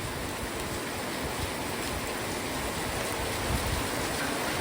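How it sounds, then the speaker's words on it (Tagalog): Heavy rain pours down in a steady, dense hiss with a broad wash of drumming noise, continuous and close throughout with no voices. "Grabe lakas ng ulan."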